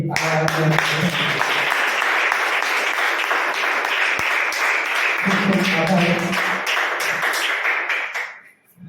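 A crowd at a school Teacher's Day celebration applauds the computer teacher, dense sustained clapping that fills the room for several seconds before tapering off, with a voice briefly heard over it.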